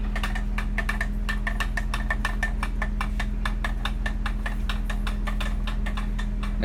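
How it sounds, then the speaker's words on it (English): A 1992 Honda Accord engine idles while warming up, giving a steady low hum overlaid with rapid, evenly spaced ticking pulses throughout. "The temperature is coming up, and the RPM idling is going down."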